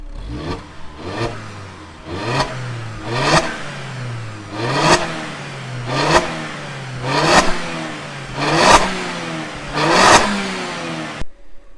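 Opel Zafira fitted with a full Miltek double decat exhaust, revved repeatedly from a standstill: about ten sharp throttle blips in steady rhythm, each rising and falling, loud and close with no talking.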